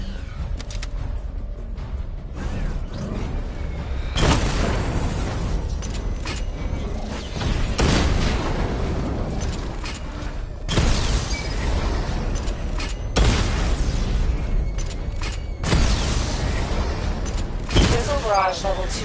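Heavy missile barrage blasts from the Batmobile in Batman Arkham Knight hit in repeated loud bursts every few seconds, each a booming wideband crash over continuous mechanical rumble, with a voice speaking between them.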